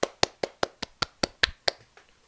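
Ten sharp hand claps in a quick, even rhythm, each crisp and close, slowing a little and fading at the end, with no talk.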